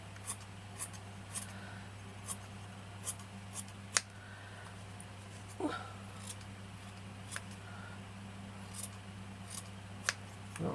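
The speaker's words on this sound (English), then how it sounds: "I'm just going to cut this to the size I need." Scissors snip cream fabric to size in a series of quiet, separate cuts spaced a second or so apart, faint over a steady low hum in an indoor sewing setting.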